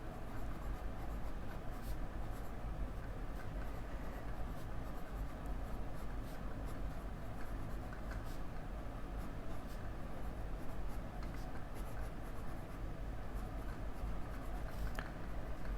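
Fountain pen with a medium steel Schmidt nib writing on paper, a close, faint, continuous scratching with short strokes and pauses, no voices.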